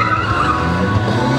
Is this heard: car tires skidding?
yes